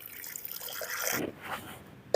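A tumbler of water poured into a cooking pot set on the stove for green puliche spinach, a short close splash and trickle lasting about a second before it fades, with a small knock at the end.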